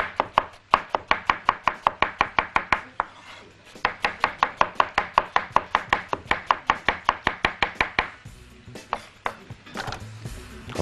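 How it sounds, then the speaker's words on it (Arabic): A knife chops onion on a board in a steady rapid rhythm of close, crisp strikes, with a short pause, then a second quick burst before the cutting stops. "قطعنا كده ايه البصل"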